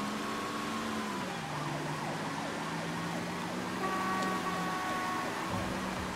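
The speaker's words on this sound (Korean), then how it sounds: "빨리 빠져나가야 됩니다. 경찰차 붙어요." A wailing police car siren in the video game Mafia III sweeps up and down continuously over steady engine rumble, fairly loud and close, like a police car in pursuit.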